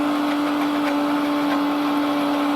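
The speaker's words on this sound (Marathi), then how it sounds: "मिक्सरला असं एकदम बारीक करून घ्या" A mixer grinder whirs steadily while blending onion and tomato into a fine paste, a loud continuous motor hum with a strong steady tone and no talking.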